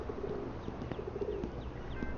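Soft cooing of a pigeon or dove outdoors, a few low repeated coos with faint chirps in the background, fairly quiet and without talk.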